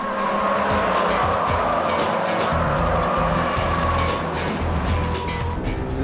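A Honda Civic Type R races on track against a Toyota Altezza and a 190-horsepower six-speed Celica, a loud continuous engine roar with tyre noise and whine, constant and close.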